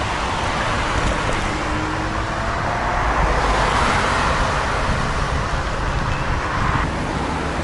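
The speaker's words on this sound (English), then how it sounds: "this section of the ring road is pretty busy right now" Busy ring road traffic in Sofia, heard from beside the road as a steady, loud roar of passing cars with wind noise, continuous and close, without any talking.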